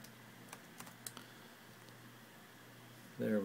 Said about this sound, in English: So let me go ahead and type that in now.